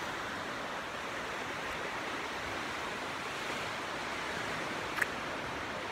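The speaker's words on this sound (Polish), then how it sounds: "To jest takie ciemne morze," Sea waves wash steadily on a dark sea, a dense, even rush of surf noise with no distinct breaks, fairly faint and without voices.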